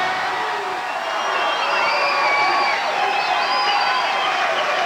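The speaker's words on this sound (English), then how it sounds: "The cheering will take up the whole show." A large crowd cheers and whoops steadily at the 1991 Chicago Bulls championship celebration, a dense, loud roar of voices with scattered shouts holding throughout.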